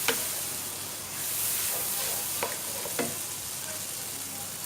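Biryani spices such as salt, red chilli, garam masala, coriander powder, turmeric and kasuri methi are mixed in a hot pan with a soft steady sizzle and hiss. A few faint scrapes of stirring sit over it, and there is no talking.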